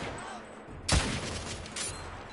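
A single loud rifle shot in the video game The Order: 1886 cracks sharply and rolls off into a reverberant tail, with a fainter follow-up report, set against a low ambient game background.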